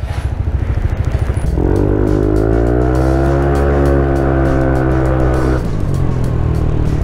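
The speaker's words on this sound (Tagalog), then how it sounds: "Tinitesting na yung motor natin, pre." A Yamaha NMAX V2 scooter on a test ride after a ball race replacement, its engine droning loud and close and revving up into a smooth sustained whine before easing off.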